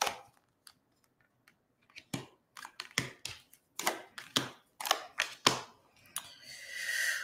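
Quiet, crisp tarot card shuffling: a run of sharp flicks and taps growing denser, ending in a brief continuous riffle.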